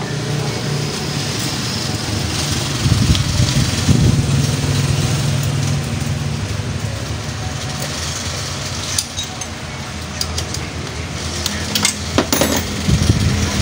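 An SYM SIP 125 motorcycle idling roughly with an idle that rises and falls, a low steady engine rumble with uneven surges and occasional clicks and knocks nearby.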